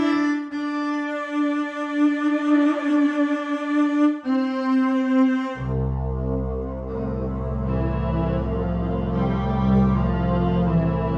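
Sustained synthetic cello tones with a chorus effect giving a shimmering quality, shifting to a lower, fuller held note partway through.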